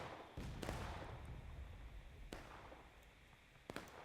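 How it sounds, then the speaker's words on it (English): Artillery shells burst in a large online war-game battle, several muffled booms and sharp cracks scattered over a low rumbling background, with faint voices. "Artillery shots going over."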